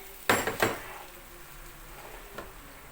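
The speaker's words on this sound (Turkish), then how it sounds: "tepsiyi ben fırına vereceğim" A metal baking tray loaded with chicken wings is set into a home oven, giving two quick close clattering knocks near the start, then a fainter clunk a couple of seconds later, with no talking.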